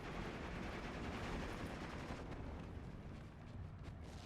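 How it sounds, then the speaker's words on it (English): Artillery fire in the World War II strategy game Steel Division 2 makes a dense, continuous rumble of overlapping blasts and crackling gunfire that stays fairly faint throughout. "this artillery has been absolutely on point"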